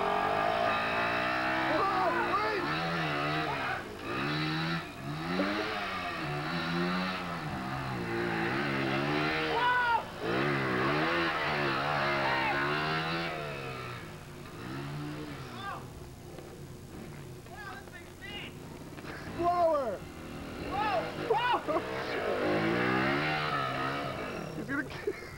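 A motorcycle engine revs unevenly as a beginner feathers the throttle and clutch to pull away, pitch rising and falling in repeated surges, while an instructor talks over it nearly throughout.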